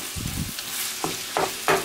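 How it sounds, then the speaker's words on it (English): Seasoned ground beef browning in a pan with garlic powder, pepper, salt and dried minced onions: close sizzling and frying with a few scraping stirs of a utensil, no voices. "So you just brown the ground beef."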